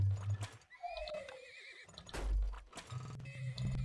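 Horses in the video game Turmoil neigh and whinny over steady clip-clopping hooves, with a long descending whinny near the start and game background noise throughout.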